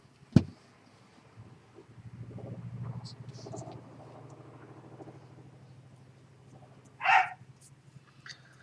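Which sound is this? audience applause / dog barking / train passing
dog barking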